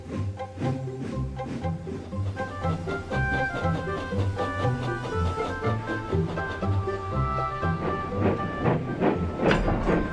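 A steam engine train moves along in a cartoon with chuffing, hissing and rhythmic clickety-clack over a musical score, continuous and moderately loud, with no talking.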